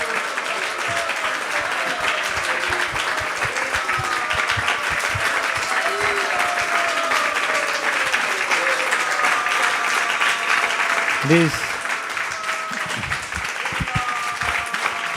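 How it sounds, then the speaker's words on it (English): Audience applause for a speaker at a Krishna Katha talk at ISKCON of Silicon Valley: dense, sustained clapping fills about fifteen seconds at an even level, with faint voices murmuring beneath it. "These claps are beyond my quota."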